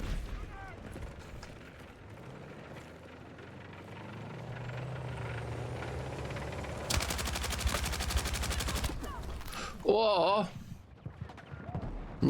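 Rapid gunfire rattles in a sustained burst over a rumbling game soundscape in the Battlefield 6 open beta, followed by scattered shots and mechanical noise.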